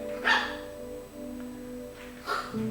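Dogs bark in two short bursts about two seconds apart, moderately near, against a steady indoor hum with no talking.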